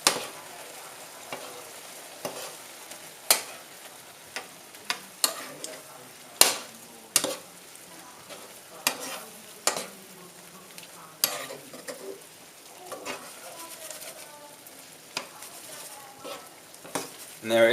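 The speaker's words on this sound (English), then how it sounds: "And then give it a stir." Paella with squid is stirred in a frying pan: a quiet sizzle runs underneath repeated sharp scrapes and clinks of a utensil against the pan, coming in irregular bursts.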